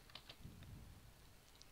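A few quiet, scattered keystrokes click on a computer keyboard while values are entered in SketchUp. The taps sound soft and sparse over a low room hum.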